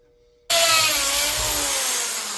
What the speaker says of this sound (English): So they want me to drill every 4 inches